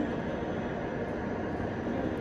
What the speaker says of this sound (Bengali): মেট্রোটা বেরিয়ে গেল